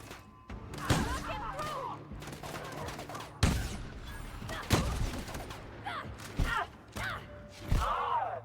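Gunfire in the video game Tales of Trinity, a handful of sharp shots spaced irregularly over a steady game soundscape, with other bursts and effects mixed in.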